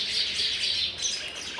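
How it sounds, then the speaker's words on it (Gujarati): Sparrows chirp in a busy, continuous chatter, bright and fairly close, with no other sounds. "અમારા ઘરે હે ને ચકલીએ માળો નાખ્યો ને તો નકરા ચકલા જ બોલે છે"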